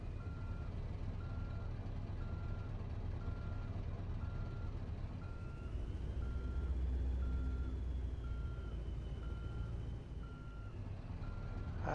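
Scania truck in Euro Truck Simulator reversing, steady evenly spaced reversing beeps over a low diesel idle and engine rumble that swells briefly midway.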